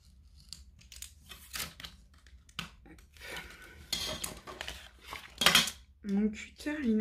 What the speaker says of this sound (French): Mon cutter, il est en train de rendre l'âme, je crois.